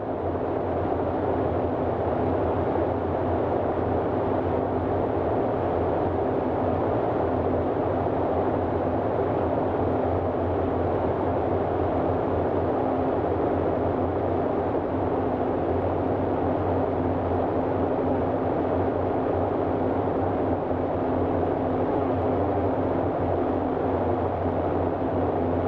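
Twin propeller engines of a Boeing 247D in Microsoft Flight Simulator 2020 drone steadily from inside the cockpit, a constant low hum with layered harmonics holding an even level throughout, with no voices.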